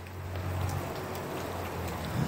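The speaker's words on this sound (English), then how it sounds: "It's raining into the garage." Steady rain pours into a garage during a rental property inspection, a constant close hiss of falling water with a low hum underneath, no voices.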